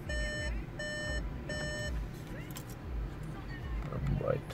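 A 2016 Audi A3 shifted into reverse gives three evenly spaced, clear electronic beeps, followed by a steady low cabin hum and soft background noise.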